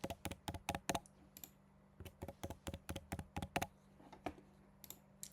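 Keys tapped on a computer keyboard while entering a password, a brisk irregular run of close, crisp clicks with short pauses between bursts.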